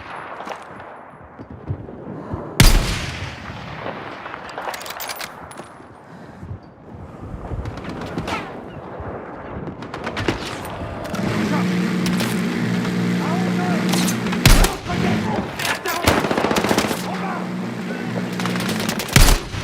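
Gunfire from the video game Battlefield 6: sharp single shots and bursts crack through wind and engine noise, with rapid machine-gun fire clustering in the second half, while a voice calls out in French.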